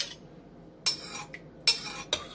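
A spoon clinks and scrapes a few times in a crockpot as thyme is stirred into chicken and dumplings, three separate short metallic knocks close by with quiet gaps between.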